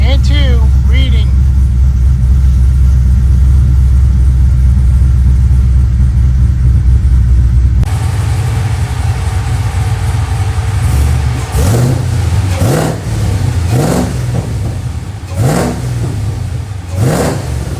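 A supercharged LT4 Chevrolet Tahoe with a newly replaced high-pressure fuel pump cranks and fires up halfway through after a loud steady rumble, then revs sharply several times in close, rising and falling bursts.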